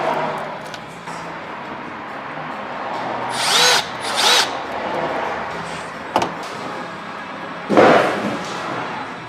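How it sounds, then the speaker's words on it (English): A small power drill whirs in several short bursts while a rear dash camera is mounted inside a car, with quiet pauses and a few light knocks between runs. "I got the little drill."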